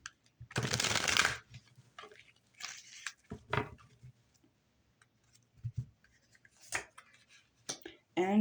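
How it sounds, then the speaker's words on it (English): Tarot cards are riffled in a quick burst, followed by scattered softer shuffles, taps and card handling, with brief bits of quiet in between. "One more shuffle."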